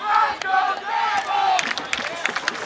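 A high school football crowd of Lebanon fans roars and cheers in the stands at Hendersonville, a loud sustained mass of shouting voices with scattered claps and yells.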